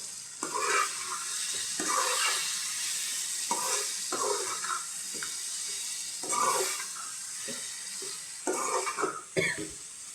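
A spoon stirs drumstick curry in a hot pan just after chilli powder goes in, giving soft scraping strokes in repeated bursts over a steady sizzle of frying, with no talking.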